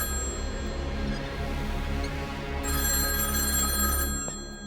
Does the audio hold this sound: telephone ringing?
yes